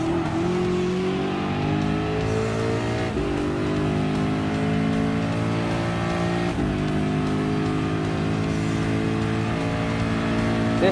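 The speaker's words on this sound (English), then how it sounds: "Ford GT LM Spec 2 race car is in the lead" Ford GT LM Spec II race car in Gran Turismo Sport, its engine droning loud and steady with rising harmonic sweeps as it accelerates through gears, with brief dips at shifts.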